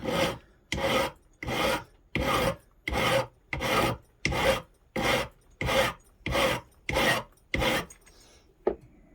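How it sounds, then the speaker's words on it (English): A hand file rasps back and forth while cutting a dovetail slot for a front sight. About a dozen steady, evenly spaced strokes are loud and close, with no talking. "I'll go ahead and do the filing, then we'll get back to it."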